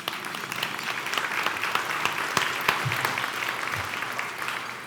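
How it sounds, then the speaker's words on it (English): Audience at an investor dinner breaks into steady, fairly loud applause, dense clapping from many hands that holds evenly and thins slightly toward the end. "round of applause for her,"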